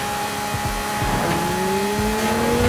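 A Lamborghini Murcielago with an LB body kit screams at full throttle in Forza Horizon 5, its engine tone climbing steadily and loudly as the car pushes past 300 km/h on a downhill stretch.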